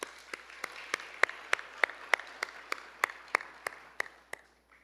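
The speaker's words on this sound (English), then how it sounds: "So quick round of applause for them." Sparse, fairly quiet clapping from a small audience at a guide dog and service dog class graduation, about a dozen and a half distinct claps at an even rhythm that fade out near the end.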